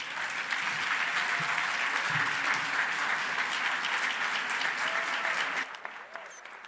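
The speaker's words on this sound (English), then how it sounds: "Let's give her one more round of applause, please." Audience applause at a business empowerment conference, loud sustained clapping from a large crowd that fades near the end as a voice begins speaking.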